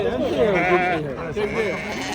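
Sheep bleat repeatedly at a busy Algerian sheep market, wavering calls overlapping close by while market talk and crowd chatter run underneath.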